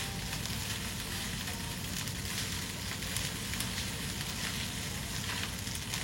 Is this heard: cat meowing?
no